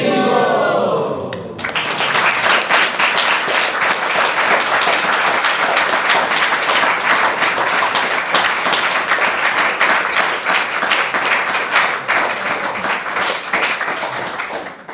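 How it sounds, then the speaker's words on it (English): A large crowd at a devotional talk gives sustained, loud applause, dense clapping that starts abruptly and holds strong for many seconds before easing slightly near the end, with a few shouts mixed in. "give him a massive round of applause afterwards"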